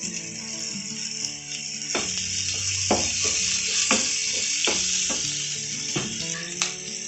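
Chopped capsicum sizzles loudly in a hot pan of chilli chicken sauce, a steady bright frying hiss broken by regular scrapes and clacks of a spatula stirring about once a second, close and without speech.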